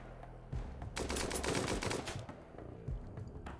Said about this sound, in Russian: Так, давайте мы переведем вас на стрельбу очередью.